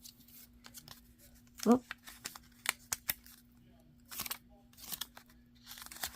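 Scissors trimming store-bought paper ephemera for a junk journal: several soft, close snips and paper rustles spaced irregularly, with crinkling handling sounds between them and a brief spoken exclamation.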